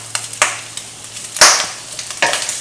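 Pork sizzling in a hot pan as filling for sticky rice dumplings, with a steady fry hiss broken by scraping stirs and one louder, splashy burst of sizzle.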